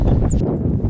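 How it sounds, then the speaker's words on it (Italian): Wind gusts roar loudly across a microphone in the Sibillini mountains near Castelluccio, a constant rumbling buffet for about a second. "Sempre vento"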